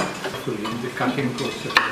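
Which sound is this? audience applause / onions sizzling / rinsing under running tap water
onions sizzling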